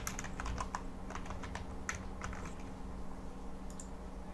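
Fingers type into a form field on a computer keyboard, a quick irregular run of close, crisp key clicks with short pauses between bursts, heard alone without talk.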